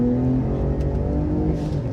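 Ford Raptor truck on a winter drive, its engine droning steadily and pulling hard under acceleration from inside the cab, a loud low rumble that holds through the moment with no talking.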